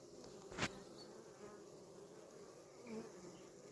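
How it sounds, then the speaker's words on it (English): Faint, soft humming of bees in a forest garden on a May evening drifts around, with a brief louder buzz as one passes near, set against a quiet outdoor background. "You hear the healing hum of the bees just here."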